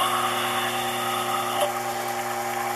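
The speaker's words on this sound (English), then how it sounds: "You're gonna stick a 204 thousandths drill bit in." A small drill spins a 0.204-inch bit through wood while cockpit detail parts are made for a model Corsair aircraft, giving a steady high-pitched whine that runs close and unbroken the whole way through.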